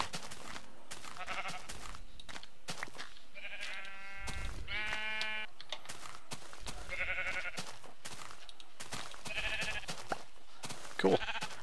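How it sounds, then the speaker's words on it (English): Minecraft sheep being sheared bleat repeatedly in short, wavering baas, some overlapping, set among quick clicking and snipping game sounds that run steadily throughout. "So I'm starting to get a little flock of sheep. I've got some shears here."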